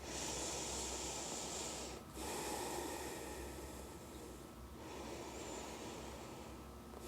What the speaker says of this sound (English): take 2 breath cycles here